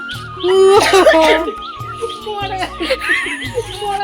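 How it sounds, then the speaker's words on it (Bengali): A person coughs repeatedly in short harsh bursts, mixed with voices and light laughter, close by. "এদিকে আবার ইনি কাশতে কাশতে আসছে"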